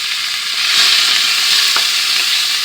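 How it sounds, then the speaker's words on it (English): About a pound of beef stew meat, seasoned with salt, pepper, onion powder and garlic powder, sears in a hot pan with a loud, steady, close sizzle and a few faint clicks. "But I also have about a pound of stew meat here. I want to sear it up."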